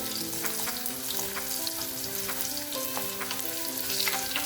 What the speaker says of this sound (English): Roast the garlic nicely in oil.